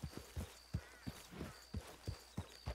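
Horse hooves clip-clop in Red Dead Redemption 2 in an even walking rhythm of distinct, close thuds about three per second, over a faint background with no talk.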